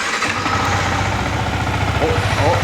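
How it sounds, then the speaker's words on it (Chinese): A Yamaha MT15 motorcycle engine runs steadily at idle nearby, a continuous low throbbing rumble that holds for the whole moment with slight revving fluctuation and no talk over it. "现在呢最重要是要听它的引擎声"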